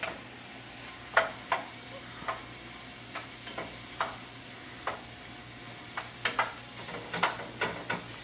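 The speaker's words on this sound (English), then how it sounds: "whisk the bell peppers and the onions evenly in the pan so you can kind of get a good layout and get coated with the olive oil." Bell peppers and onions sizzle in olive oil in a pan, with a soft steady frying hiss broken by sharp irregular clicks and taps of stirring, close and fairly quiet.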